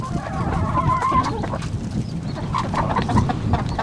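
Chickens feeding on whole sunflower seeds, clucking and murmuring close by over a busy, rustling farmyard background, with a few louder squawks scattered through.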